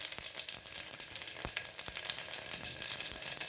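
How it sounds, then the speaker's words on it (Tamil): Cumin seeds crackle in hot ghee for ponnanganni keerai rice, a steady close sizzle with scattered sharp pops throughout. "நெய் சூடாகிடுச்சு. ஜீரகம் கொஞ்சம் போட்டுக்கோங்க."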